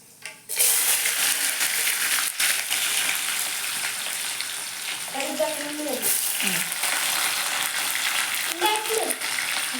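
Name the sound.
cumin, mustard seeds and onion frying in hot oil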